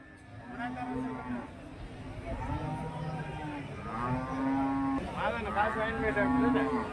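Cattle at the Orappam cattle market in Krishnagiri district, some still standing in a truck while others are unloaded, give several long, drawn-out moos close by, with people talking throughout.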